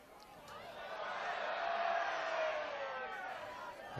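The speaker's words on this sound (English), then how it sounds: "Raucous cheers from the crowd there." A rugby crowd at Edinburgh versus Leicester Tigers lets out a raucous cheer that swells and then slowly fades, distant and broad, under a commentator's voice.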